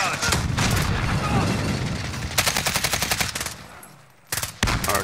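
Heavy automatic gunfire in the video game Call of Duty Warzone: sustained loud rattling bursts, a short gap, then two more quick volleys at the end, with some game noise but no clear talking.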